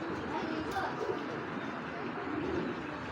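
A large chequered hen pigeon, a foreign racing breed, gives soft low coos half-buried in a constant wash of background noise, close by and fairly faint.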